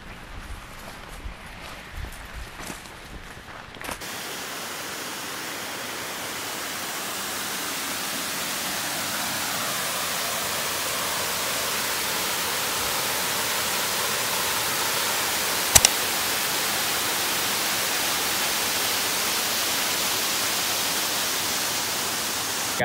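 Todd Creek Falls, a waterfall near Clemson, gives off a steady, loud, broadband rush of falling water that holds evenly for about twenty seconds, with no voices.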